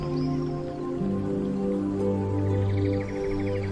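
A rain sound effect opening a comedy sketch about driving in the rain: steady patter and drips blended with sustained, tonal musical chords, loud and continuous with no talking.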